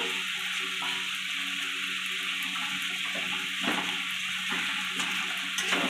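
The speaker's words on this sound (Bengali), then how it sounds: "লাল লাল করে ভেজে নেব মুড়োগুলো" Fish heads fry in hot oil as they are browned until red, giving a continuous, even sizzle and crackle close by, with no one speaking.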